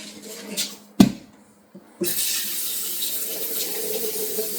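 A kitchen tap runs water with dish soap into a container, starting after a couple of knocks and a clunk, then a steady close rushing splash that continues to the end.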